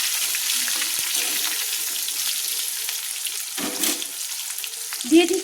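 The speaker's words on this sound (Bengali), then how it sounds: "দিয়ে আমটাকে ভালো করে তেলের মধ্যে কষে নিচ্ছি" Raw mango slices fry in hot oil with a strong, continuous sizzle, and a couple of scraping stirs against the pan come near the end.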